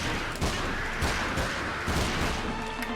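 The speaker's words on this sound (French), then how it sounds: "Je sais pas sur quoi je tire, hein. Mais je tire." Rapid gunfire in the King Kong video game, a burst of loud, sharp cracks repeating in quick irregular succession over a dense, noisy battle background, with no voices.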